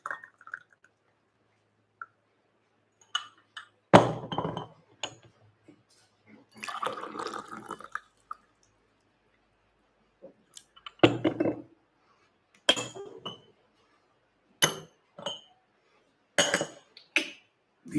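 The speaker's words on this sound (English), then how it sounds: "I'm going to pour the nicer ones first." Silver Needle white tea is poured into glass cups in several separate bursts, short splashing trickles spaced by quiet gaps, close and fairly soft with no talk.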